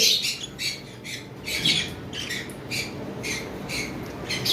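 A pair of lovebirds, a violet mask female and a green Fischer's male, give repeated shrill squawks and chirps in quick bursts, close by, over a low background murmur.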